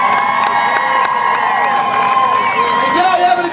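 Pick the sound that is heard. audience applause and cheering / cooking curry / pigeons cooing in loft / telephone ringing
audience applause and cheering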